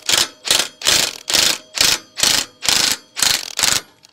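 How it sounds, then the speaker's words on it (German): Ratchet wrench with a 24 mm socket working a screw loose on farm machinery, giving nine rhythmic bursts of rapid pawl clicking, close and loud, with brief pauses between strokes and no talking. "Da habe ich eine 24er Nuss hier drauf. Ein Parallelogramm hochklappen. Jetzt drehe ich so lange, bis sich das hier löst."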